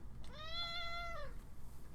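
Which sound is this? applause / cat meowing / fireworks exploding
cat meowing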